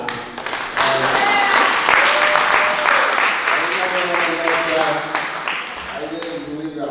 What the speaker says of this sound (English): just want to give a round of applause to Jeffrey for making this happen.